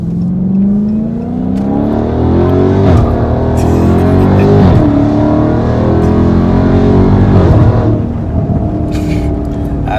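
A Dodge Hellcat, 707 horsepower, drifting with its supercharged engine revving hard, the pitch climbing and dropping in repeated surges over a steady loud roar that fills the whole stretch.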